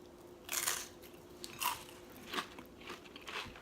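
Crunchy bites and chews of a Swiss cheese keto nacho chip heard up close, several sharp crackling crunches spaced about a second apart.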